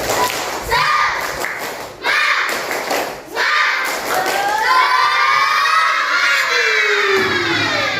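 Classroom students perform a rhythmic clapping cheer routine, loud group claps in bursts with children shouting and cheering, then a sustained chorus of young voices toward the end.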